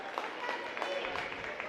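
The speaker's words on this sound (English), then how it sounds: "giving Kaylee a little round of applause" Scattered applause from spectators in a gym at a girls JV basketball game, a short burst of clapping mixed with crowd murmur.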